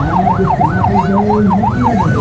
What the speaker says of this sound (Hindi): पुलिस की गाड़ी आ गई।